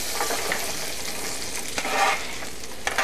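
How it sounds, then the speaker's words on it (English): Onions and brown sugar sizzling in butter in a small pan, a continuous crackling fry with occasional stirring scrapes, close and fairly loud, no talking. "add all of your onions and your brown sugar, so you hear it nice and sizzling"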